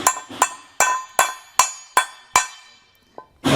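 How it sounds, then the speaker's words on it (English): A hammer taps threaded bushings into the bed of a 2022 Ford F-350 Super Duty truck for a B and W fifth wheel underbed kit, giving about eight sharp, ringing metallic strikes at an even pace, loud and close, with no talk. "just take a hammer and just tap this in to where it sits flush"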